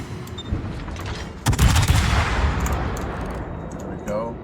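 Heavy naval guns fire in World of Warships aboard the cruiser Des Moines, a loud booming salvo with rumbling roar and crackle that fades out, over continuous game ambience and someone talking.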